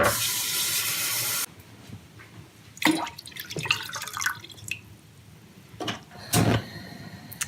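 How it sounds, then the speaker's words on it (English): Cold water runs from a tap into a medium-sized, heavy-bottomed saucepan for miso soup, a loud steady stream that cuts off, followed by scattered drips, splashes and clinks of the pan. "We're gonna start with 7 cups of cold water into a medium-sized, heavy-bottomed saucepan to make our miso soup"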